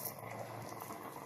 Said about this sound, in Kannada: ನೋಡಿ ಈಗ ಕುದೀತಾ ಇದೆ ಸ್ವಲ್ಪ.